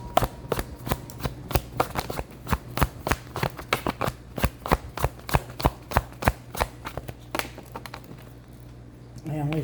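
Tarot cards shuffled by hand in a long run of crisp, rapid riffling flutters, close and fairly loud, with a steady low hum underneath and no talking.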